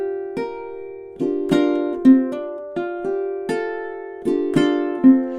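Ukulele plucked fingerstyle through a spooky two-bar phrase with a hammer-on, individual notes picked in a steady rhythm with ringing overlaps, close and clear, no talking.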